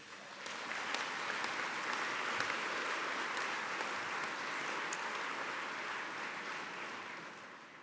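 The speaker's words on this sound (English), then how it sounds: "I would really like if you could join me in a round of applause for all their achievements." An audience applauds at an awards for excellence ceremony, a sustained dense round of clapping that starts abruptly, holds steady at moderate volume and tapers slightly at the end.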